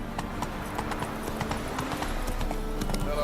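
Roach, Geralt's horse in The Witcher 3 video game, gallops with steady, rhythmic hoofbeats over a dense, constant game background.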